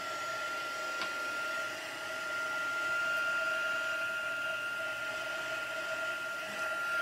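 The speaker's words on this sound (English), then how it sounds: "bring my heat tool in and it will go on setting number 2" A craft heat tool for melting embossing powder runs on its second setting, giving a steady, moderately loud whirring blow with a constant high tone throughout, alone without talk.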